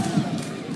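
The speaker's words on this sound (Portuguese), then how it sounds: "a torcida grita Gum guerreiro," Fluminense supporters in a stadium crowd chant for a player during a Brasileirão 2016 match against Santa Cruz, a dense, loud roar of massed voices sustained throughout the short moment.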